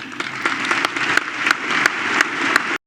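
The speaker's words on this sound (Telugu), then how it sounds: "మన తెలుగు యువతరం వస్తున్నారు చప్పట్లు కొట్టండి" Steady applause from a graduation ceremony crowd in Canada, many hands clapping continuously and fairly loudly, with a few sharper individual claps standing out, then cutting off abruptly.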